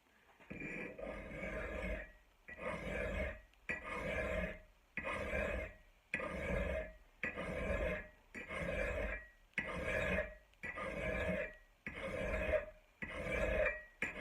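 A 10-inch Westward file rasps along an axe edge in ten steady, evenly spaced strokes, each a loud gritty scrape up close, separated by short pauses.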